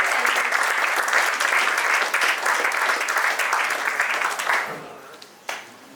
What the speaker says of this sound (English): Please give him a big round of applause once again.